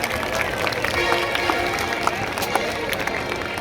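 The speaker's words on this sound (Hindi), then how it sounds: "एक बार जोरदार तालियां आप सभी" Applause from a Ramlila audience at an outdoor stage show in Sector 48, Chandigarh: a dense, steady wash of clapping and crowd noise lasting throughout, with scattered sharper claps standing out.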